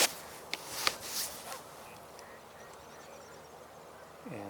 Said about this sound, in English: And some ducks are flying overhead